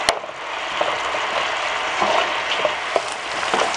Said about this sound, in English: So there's my chicken, it's boiling.